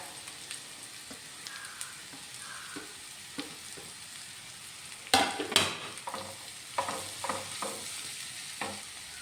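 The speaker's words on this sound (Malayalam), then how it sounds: "ഇനി നമുക്കതിലേക്കൊരു മീഡിയം സൈസിലുള്ള 3 സവോള കട്ട് ചെയ്തത് ചേർത്ത് കൊടുക്കാം" Three medium sliced onions hit a pan of sautéed ginger and green chilies, giving a soft, steady sizzle with scraping stirs and a louder burst of clatter midway, close and without talk.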